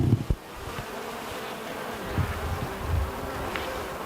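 Honeybees hum at an active hive, a soft continuous drone that rises and falls slightly, with a couple of faint knocks near the start and no voices.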